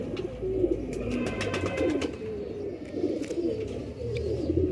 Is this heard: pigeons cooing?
yes